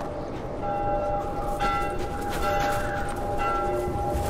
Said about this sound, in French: Est-ce que je dois suivre la cloche encore?